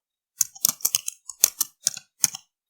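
Someone types a comment on a computer keyboard: a quick run of crisp, close key clicks in uneven bursts and short pauses, alone in a quiet room.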